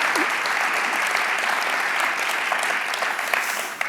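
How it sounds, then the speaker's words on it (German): Dense audience applause for the host at a university public event in Bonn, many hands clapping together in a steady loud wash that continues evenly for the whole stretch. "einen großen Applaus nochmal an unseren Gastgeber"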